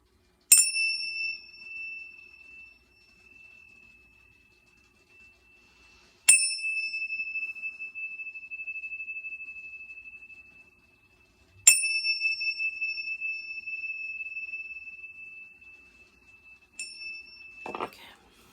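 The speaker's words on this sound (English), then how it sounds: "use the Tibetan bells to kind of clear the energy" Tibetan bells are struck four times at spaced intervals during a spiritual energy-clearing session, each strike a clear, sustained metallic ring that slowly decays into near silence.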